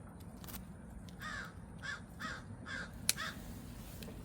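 Several short crow caws, spaced irregularly at a moderate distance, over a steady low background hum.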